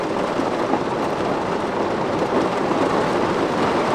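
Heavy rain pours down in Death Valley as a dense, constant, hissing roar that stays loud and even throughout, with no speech.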